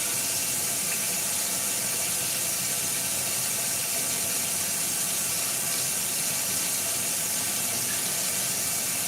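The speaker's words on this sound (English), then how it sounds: "I'm gonna take just a little bit of water and get like the excess gravy that was kind of left over in the pan" Water is poured into a pan that held T-bone steaks to loosen leftover gravy, giving a steady, dense hiss and splash that continues unbroken for several seconds with no talking.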